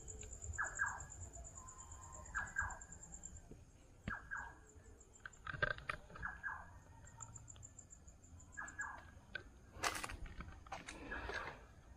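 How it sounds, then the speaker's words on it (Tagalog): Short bursts of high chirping calls repeat at irregular intervals over a steady faint background hum, with a constant high insect-like whine throughout. "guys, may ibon dito."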